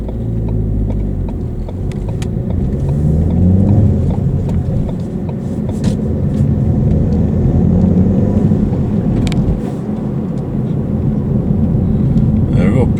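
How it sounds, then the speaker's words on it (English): A bin lorry (garbage truck) rumbles past a car, a heavy low engine drone that swells and fades over several seconds with road noise, and someone talks over it. "Bin lorry."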